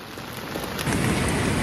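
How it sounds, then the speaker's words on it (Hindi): Heavy rain drums steadily on a tent at a camp near the India–Pakistan Line of Control in Keran, a dense, loud wash of falling water with low thunder rumbling beneath it. "देखो बाहर लगातार बारिश चल रही है, ये देखो।"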